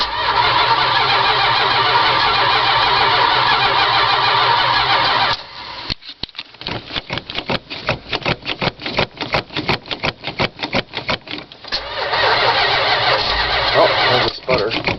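Cold start of a 1978 Dodge Ramcharger engine: loud steady cranking for about five seconds, then a run of rapid irregular sputters and pops, followed by more cranking; a voice speaks briefly.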